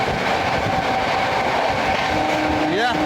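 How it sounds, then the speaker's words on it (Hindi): An oil tanker train rumbles past alongside a moving Amrit Bharat Express on the Delhi to Patna route, a loud, steady roar heard from the coach with a brief rising tonal sweep near the end. "तो ऑयल टैंकर ट्रेन को पैरेलली ओवरटेक कर रहे हैं"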